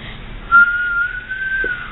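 A person whistles a short tune in a thin steady tone, starting with a brief louder burst and then holding two sustained phrases, fairly close and alone without speech.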